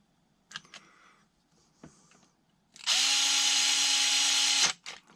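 A power tool gun whirs briefly at close range while tightening a fastener on an RC car's center differential, running about two seconds before stopping abruptly, with a few faint clicks and handling noises around it.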